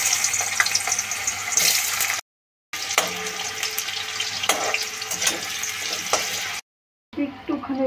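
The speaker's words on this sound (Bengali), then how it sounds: "আলুটা ভেজে নিচ্ছি প্রথমে।" Cut potatoes fry in white oil in a pan, giving a steady, close sizzling hiss with stirring scrapes. The hiss is broken by two short silent gaps.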